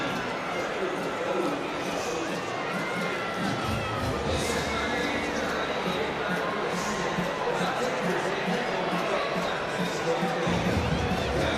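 A large stadium crowd at the Hong Kong Sevens rugby tournament, many children among them, keeps up a loud continuous roar of chatter and shouting with scattered cheers, and a commentator's voice runs over the top.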